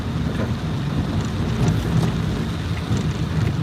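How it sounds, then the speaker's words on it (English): Heavy rain pours down in a dense, steady roar with wind buffeting the microphone, loud and continuous throughout. "We're finally getting rain, but this is really bad."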